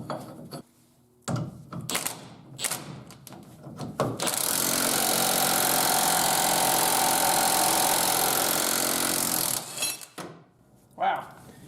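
A heavy-duty OTC pitman arm puller is used on a Jeep YJ to remove a pitman arm, driven by a power tool in one loud, sustained burst of about five seconds, with scattered clanks and speech before and after.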